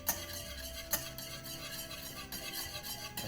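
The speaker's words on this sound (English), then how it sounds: "Continue to whisk." A whisk stirring a thickening sauce in a pan just taken off the heat, a steady scraping, clinking churn near and continuous with a couple of sharper metallic taps.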